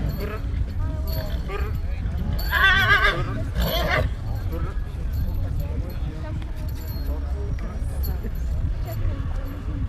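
Horses whinny and neigh at a harvest festival horse show in Częstochowa, with a loud neigh around the middle amid steady crowd noise, a public-address voice and general outdoor commotion.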